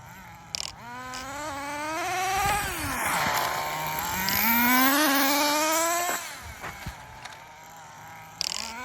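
An HPI RS4 nitro RC car engine runs loud and close, its whiny buzz climbing and dropping as the throttle is blipped and held, then settling back near idle.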